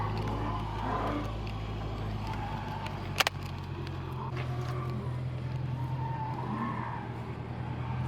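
Raymond's 240 car driving at a speedway track while chasing another car, a steady engine drone and tire roar from inside the car, with one sharp knock partway through and some faint voices.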